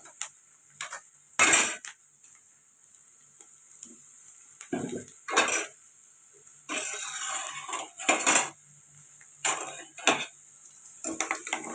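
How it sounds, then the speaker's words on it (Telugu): A spoon clatters and scrapes in a cooking pot of fish curry, with irregular bursts of metallic clinks and knocks separated by quiet gaps, close and fairly loud. "స్పూన్ ఇందులో పెట్టా."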